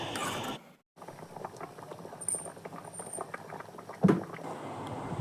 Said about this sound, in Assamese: মাছকেইটুকুৰা দি আৰু অলপ টাইমৰ কাৰণে উতলিবলৈ দিছোঁ